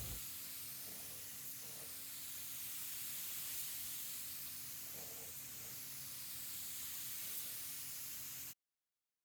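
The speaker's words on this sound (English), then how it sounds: "I spray on a few generous coats of Nissan 2K High Build Primer." A spray gun lays down Nissan 2K High Build Primer on a car panel during a 240SX restoration, producing a steady close hiss that runs without break for about eight seconds, then cuts off.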